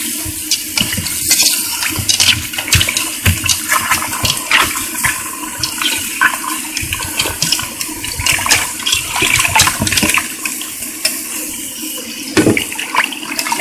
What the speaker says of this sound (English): you want to wash your potatoes before you start boiling them